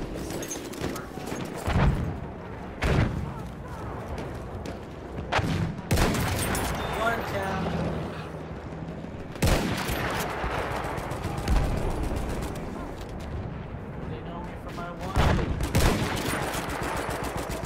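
Battlefield 1 gameplay with repeated bursts of rifle and machine-gun fire and distant booms, loud and dense across the stretch, with short sharp shots punctuating a continuous battle din.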